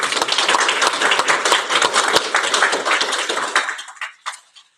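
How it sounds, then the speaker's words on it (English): Applause from a graduation audience at an adult education dental assisting ceremony, a dense burst of many hands clapping close and loud, thinning out into a few last scattered claps before stopping. "Please join me in a round of applause to acknowledge our students' accomplishments."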